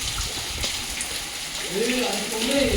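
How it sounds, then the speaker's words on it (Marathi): Monsoon rain hisses steadily in the background on a trek at Rajmachi while a voice speaks over it toward the end. "फक्त पाऊस फक्त हे बघा"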